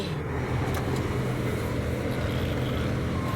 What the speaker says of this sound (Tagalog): napaka traffic po